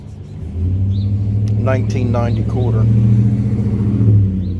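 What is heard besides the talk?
road traffic noise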